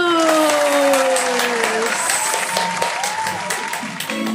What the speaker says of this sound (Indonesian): Yuk kita mau berikan tepuk tangan yang meriah untuk Tuhan Yesus